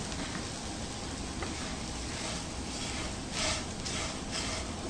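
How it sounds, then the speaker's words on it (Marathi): Flattened rice (poha) roasts in hot ghee in a pan, giving a soft, steady sizzling hiss with brighter crackling bursts a little after the three-second mark. "आणि हे छान भाजून घ्यायचे आपल्याला तुपावर।"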